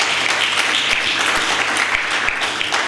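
Church congregation clapping their hands during a sermon, a loud, close, continuous patter of many hands with a few heavier thumps scattered through it.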